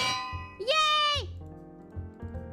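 A bell rung in the Minecraft video game, a few bright metallic dings with one long sustained ring in the middle, clear and close, followed by lighter repeated tones.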